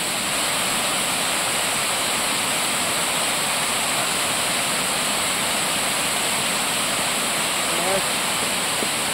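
Steady broadband rush of river water pouring over a drop, swollen by rain, a constant close roar filling the whole clip without pause.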